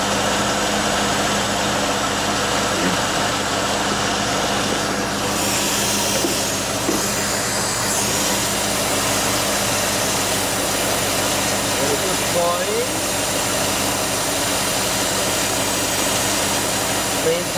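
Chevrolet 305 TPI V8 from an IROC-Z barn find idling steadily at close range while the distributor is turned to advance the ignition timing, a continuous even rumble with a faint high whine.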